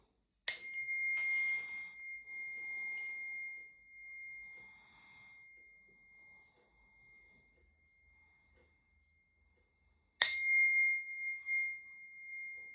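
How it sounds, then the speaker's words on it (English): A chime gives two sharp metallic strikes about ten seconds apart, each ringing out with a bright sustained tone that slowly decays in an otherwise quiet room. "That was a weird sound coming out of my chime there."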